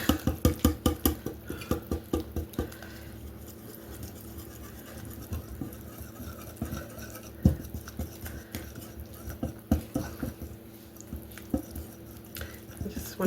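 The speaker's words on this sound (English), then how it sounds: "I'm just going to do the old-fashioned using a whisk." A hand whisk beating cinnamon roll dough ingredients in a bowl, fast rhythmic scraping strokes close by, busiest at the start and then settling into a steady, softer churn.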